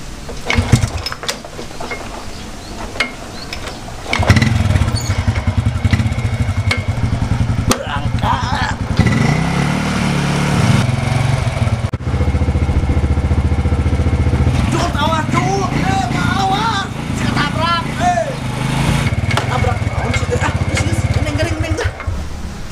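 A motorcycle engine runs nearby with a steady, buzzing rumble that rises and falls across the stretch, while people talk over it in a village setting.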